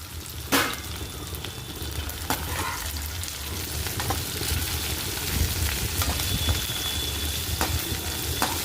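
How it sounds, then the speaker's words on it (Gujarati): Okra sizzles in hot oil in a pan while being stirred, giving a steady crackling fry with occasional sharp scrapes and clinks of the spoon, and no talking. "હવે અંદર નાખીશું પાછા ભીંડા."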